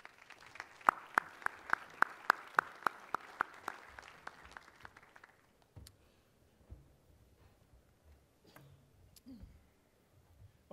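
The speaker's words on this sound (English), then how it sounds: "Let's give our awardees another hand," A conference audience claps briefly for awardees, a short burst of sharp, fairly sparse handclaps that fades within a few seconds into quiet room noise and faint shuffling.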